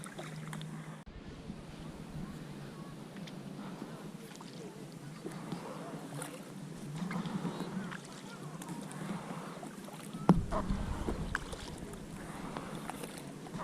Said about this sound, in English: I better keep paddling.